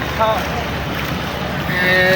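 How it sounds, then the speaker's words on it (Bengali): A small boat crosses the Buriganga River from Sadarghat in Dhaka, heard as a loud, constant rush of wind and water noise close to the microphone. "নৌকাতে উঠলাম সদরঘাট থেকে আমরা যাচ্ছি নদীর ওই পারে কালীগঞ্জ"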